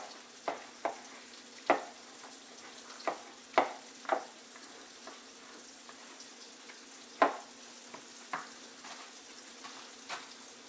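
A spoon stirs a green bean casserole mixture with shredded cheddar cheese, giving repeated soft scraping strokes and light clinks against the bowl at an irregular pace, close and fairly quiet, with no talking.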